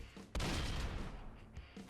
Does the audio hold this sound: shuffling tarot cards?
no